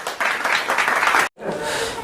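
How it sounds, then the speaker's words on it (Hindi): A studio audience at a comedy quiz-show spoof claps in a loud, even burst that cuts off abruptly for a moment, then resumes slightly softer. "तालियां बजती रहनी चाहिए"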